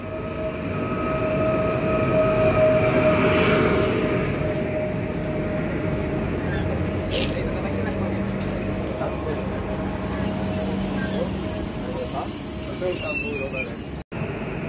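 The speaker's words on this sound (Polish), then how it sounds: "Pociąg osobowy S5 relacji Żywiec-Katowice." Elf electric passenger train on the Żywiec–Katowice line passing through a station, a steady loud rumble and hum of rolling wheels and motors with some squealing, heard from the platform.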